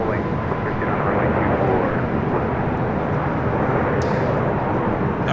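A large jet roars steadily on LAX runway 24 left during an arrival or departure, a loud continuous rumble of engine noise that fills the whole stretch without a break.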